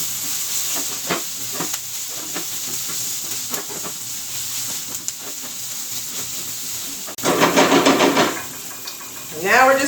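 Minced garlic hits onions in a hot skillet, setting off a louder burst of sizzling and hissing late on, after a stretch of quieter frying with faint kitchen clatter.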